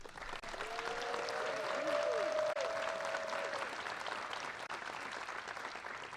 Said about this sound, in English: Could you clap your hands for none other than Deputy Mayor Lori Lipson?